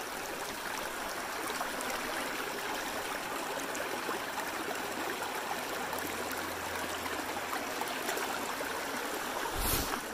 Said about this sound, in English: There's our creek.